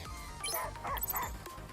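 A dog in the video game Stellar Blade gives a short run of close, yipping barks and whimpers lasting under two seconds, with faint game sounds underneath.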